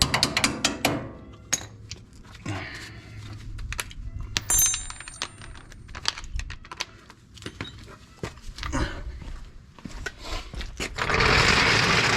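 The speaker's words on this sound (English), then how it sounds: "then you can start tightening up your sway bar bushings, bolts, once you put nuts on them" Wrench work tightening bolts and nuts on a sway bar bushing of a squarebody truck during a 2-inch drop spring install: a series of sharp metallic clicks and ratcheting bursts, close and fairly loud, with pauses between and no talking.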